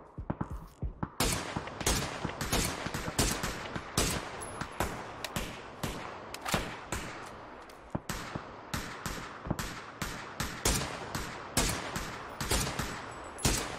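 Rapid gunshots ring out in a video game, a long run of sharp, loud cracks and short automatic bursts in irregular quick succession with hardly any talk.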